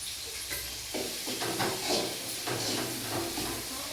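Mustard seeds sizzling and popping while sautéing in oil in a pan, a steady hiss with irregular crackles and small bursts, close by and fairly quiet, with no talking.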